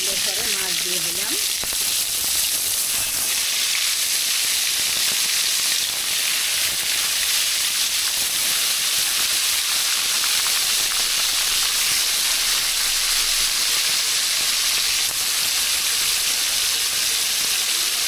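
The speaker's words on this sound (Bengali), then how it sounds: "ওখানে যে তেলের পরে মাছ দিয়ে দিলাম" Pangas fish sizzles in hot oil, a loud, steady, close frying hiss that runs unbroken throughout, with a brief bit of talk at the start.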